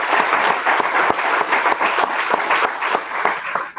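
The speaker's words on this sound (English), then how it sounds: "they deserve a round of applause" An audience at a district candidate forum gives a steady round of applause, dense overlapping claps filling the room for several seconds with no talking.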